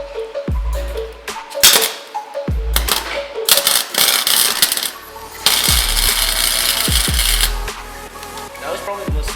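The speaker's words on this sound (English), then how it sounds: "That was probably the most solid weld I've ever done." Welding on metal parts of a Nissan 350Z during a racing harness and bucket seat install, crackling bursts and sharp clanks in irregular clusters, fairly loud and close, with sustained sizzling stretches.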